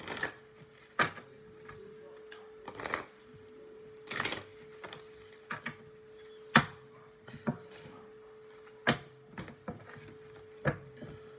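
Tarot cards being shuffled by hand give a series of sharp riffling bursts every second or two, close and clear over a faint steady hum, with no speech.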